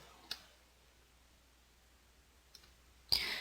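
Mouse clicks while working in graphics software, three isolated sharp clicks spaced apart in a quiet room, the last one louder and closer.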